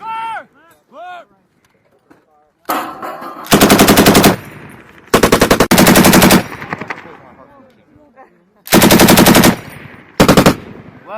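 Machine gun fire during US Marines training in Finland: loud, close bursts of rapid automatic shots in several volleys, with voices calling out before and between them.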